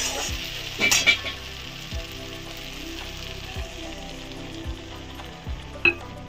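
Tomatoes cooked down in a pan fry in a loud, steady sizzle as poppy seeds are added and stirred in, with occasional soft scrapes and taps from the spoon, close with no voice.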